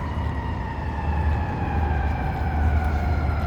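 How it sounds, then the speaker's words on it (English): Emergency vehicle sirens wail steadily in the distance in downtown Chicago, layered tones rising and falling over a constant low rumble of traffic or city noise. "And then you hear sirens behind me."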